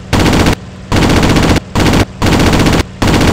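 The guns of an A6M Zero fighter in the Aces High 2 flight game fire four loud, rapid bursts with short gaps between them, close and harsh.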